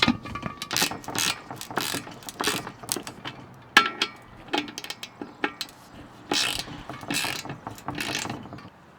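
A ratchet tightens the bolt on a privacy fence add-on panel, giving repeated bursts of close, sharp clicking with short pauses between strokes.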